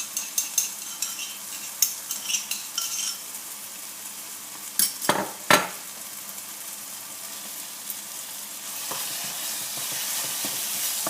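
Crushed garlic cloves frying in a mixture in a pan for Tunisian mtabga, steady sizzle under repeated spoon scrapes and clinks against the metal, a few sharper knocks midway.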